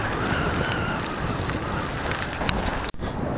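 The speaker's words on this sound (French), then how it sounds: "le vent est en train de me démonter" Strong wind buffets the microphone during a long mountain bike ride, a constant loud roaring rush with one sharp dropout near the end.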